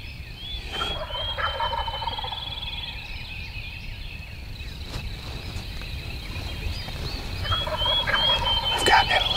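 A wild turkey gobbles loudly in an open field on a Tennessee farm during spring turkey season, with repeated rattling gobbles near the start and end over a steady background of insects and birds.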